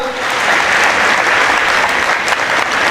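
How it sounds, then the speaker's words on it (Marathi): A hall audience bursts into loud, sustained applause for a friend named Sumit Gote during a comic Marathi speech, a dense wash of clapping holding steady for about three seconds. "त्या आमचे मित्र सुमित गोटेसाठी एकदा जोरदार टाळ्या वाजवा"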